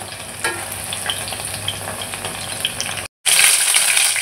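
Chicken pieces fry in a wok with a dense, continuous crackling sizzle, cut by a brief silent gap before resuming louder and brighter.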